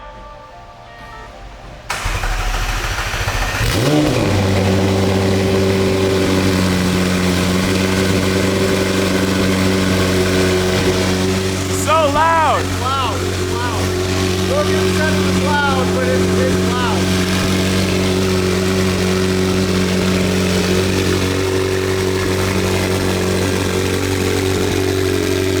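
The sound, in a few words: race car engine running loudly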